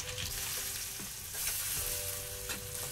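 Onion fries in a pan with garlic and green chilli, a dense steady sizzle with a few soft stirring scrapes, close and fairly quiet.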